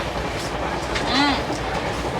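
A moving passenger train rumbles steadily on the rails, with a continuous rolling roar and a brief metallic squeal of the wheels partway through.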